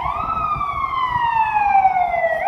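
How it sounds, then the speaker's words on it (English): A fire truck stuck in traffic on King Street in Toronto on a winter night sounds its siren, a loud, close, steady tone gliding gradually lower with clear overtones above a low rumble of traffic. "That fire truck's stuck,"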